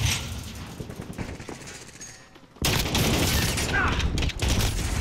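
Call of Duty: Modern Warfare gunfire erupts in dense rapid bursts, loud automatic fire that drops briefly into a lull before resuming even harder, with a player's voice faintly mixed in.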